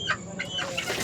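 Pure Red Spartan gamecock rooster clucking close by, a quick series of short throaty clucks in a steady rhythm with no talk.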